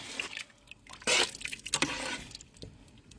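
Wet squishing and dripping as southern greens broth is poured into a pot and stirred, a short burst of liquid splashing midway amid softer sloshing, close and fairly quiet.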